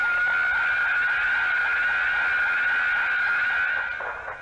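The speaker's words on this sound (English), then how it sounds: "That scream is so gosh dang loud and annoying." A sustained, piercing high-pitched scream holds steady for several seconds, loud and shrill, with a faint background bed beneath it.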